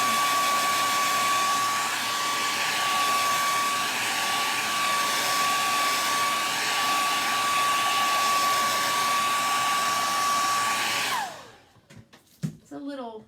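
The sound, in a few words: hair dryer drying paint on a Lazy Susan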